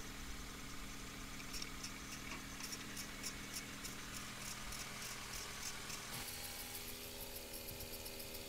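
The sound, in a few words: car engine idling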